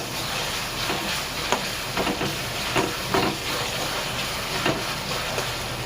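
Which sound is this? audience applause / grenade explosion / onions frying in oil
onions frying in oil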